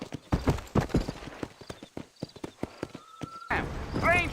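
Galloping horse hoofbeats from a Red Dead Redemption ride, a rapid clip-clop rhythm of close, sharp impacts, ending in a horse whinny over a short tonal game sound.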